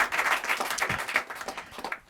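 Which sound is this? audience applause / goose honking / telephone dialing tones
audience applause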